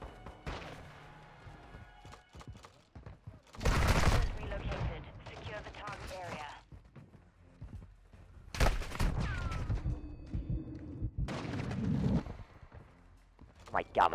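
Gunfire in the Modern Warfare 2 video game, several loud broadband bursts around four, nine and eleven seconds, with a voice talking between and over them.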